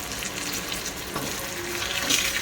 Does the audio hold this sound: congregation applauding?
no